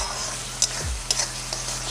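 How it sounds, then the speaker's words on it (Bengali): Dried shrimp paste being stirred in a hot pan, a steady low sizzle with a few sharp scrapes of the spatula against the pan, close and fairly quiet, no voices. "এইভাবে এটাকে কনস্ট্যান্টলি কিন্তু নাড়াচাড়া করতে থাকবেন"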